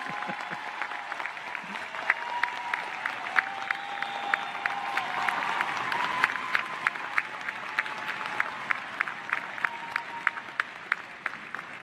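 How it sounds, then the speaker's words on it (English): A graduation audience at a school of social work ceremony gives sustained applause, a steady, fairly distant crowd of clapping hands with occasional louder individual claps and a faint tone running underneath. "Give her a big round of applause."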